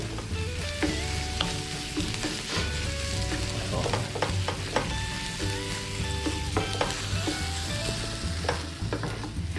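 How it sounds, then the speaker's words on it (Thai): Pounded chili, shallot, garlic and shrimp paste stir-frying in a little oil over low heat, a close, busy sizzle with frequent clinks and scrapes of the spatula against the pan. "เติมน้ำมันเล็กน้อยนะครับ มาผัดด้วยไฟอ่อนๆนะครับ"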